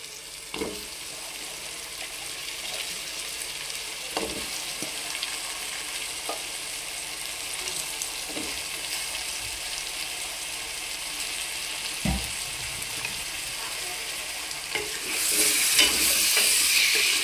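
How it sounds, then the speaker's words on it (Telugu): Drumstick pieces fry in oil with onions for a drumstick and egg curry, giving a steady sizzle with occasional stirring clinks and taps, and a brighter hiss swells near the end. "ఈ ములక్కాయ ముక్కలు కూడా ఈ నూనెలో బాగా మగ్గనివ్వాలి."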